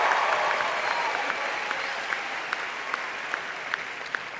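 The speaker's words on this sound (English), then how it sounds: "Give yourselves another round of applause." Audience at the Blair High School class of 2012 graduation ceremony applauds in a large hall, a continuous wash of many hands clapping with a few sharper claps standing out near the microphone.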